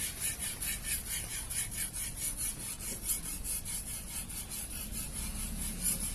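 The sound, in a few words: butcher knife sharpened on Imanishi Arashiyama 6K Japanese whetstone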